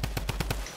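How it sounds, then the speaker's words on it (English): A Tommy gun fires in a shooter video game: five quick, evenly spaced shots in a short, punchy burst, close and moderately loud with no talking. "See, I'm good with the Tommy gun, I'm really good with it."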